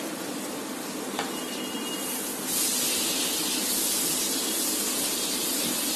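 Chopped garlic frying in butter in a pan for a creamy vegetable pasta, a steady close sizzle and hiss that swells louder partway through, with a faint clink early on.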